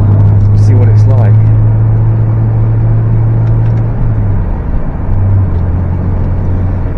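A Rover 75 saloon's engine runs while the car is driving, a low, smooth, steady drone that hums near and constant under the cabin, its pitch dipping briefly before settling again, with a voice briefly heard early on.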